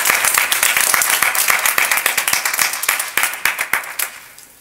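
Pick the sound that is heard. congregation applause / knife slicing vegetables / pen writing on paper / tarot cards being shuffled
congregation applause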